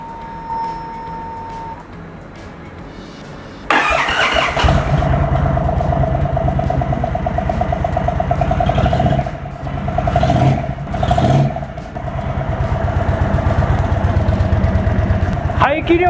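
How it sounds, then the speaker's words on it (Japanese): A big 1890cc V-twin Indian Chief Thunderstroke motorcycle engine starts up and runs steadily with a deep, loping idle, revving briefly a couple of times, close by. "チーフサンダーストロークエンジンサウンドチェックやっていきたいと思います"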